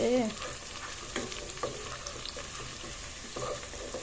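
Food sizzles steadily while being stirred in a pan, with occasional scraping and clinking over a constant frying hiss, fairly close and moderately quiet.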